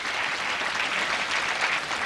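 Audience applauding at a 1998 men's professional bowling tournament in Ludwigshafen, Germany, a steady wash of clapping from many hands, continuous and moderately distant.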